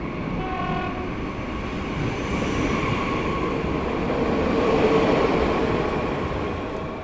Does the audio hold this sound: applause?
no